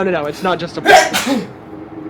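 A single sharp sneeze bursts out in the middle of casual conversation inside an enclosed room, loud and close, with voices talking just before and after it.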